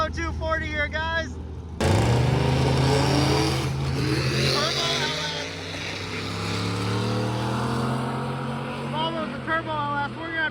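After a brief voice, a Volvo 240 with a turbocharged LS engine erupts into a loud, sustained roar on a drag strip, the pitch climbing through gears and continuing to the end, where talking resumes.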